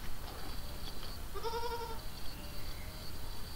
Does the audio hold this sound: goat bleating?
yes